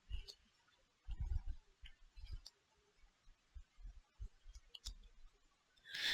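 Computer mouse clicks, faint and sparse, with soft irregular taps spread across a quiet background.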